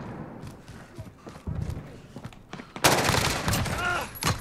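An MCX Rattler, a very short rifle with a 5.5-inch barrel, fired against bots in Call of Duty Modern Warfare: a few dull thumps, then a loud, sustained burst of rapid automatic fire close up.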